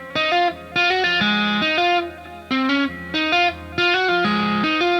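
A distorted electric guitar plays a fast tapped riff high on the neck for a song, with rapid repeating note patterns grouped into bursts and separated by brief gaps, loud and alone.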